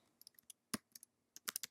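Fingers type on a computer keyboard in short bursts of light, close clicks, a handful of keystrokes with brief pauses between them, quiet and alone.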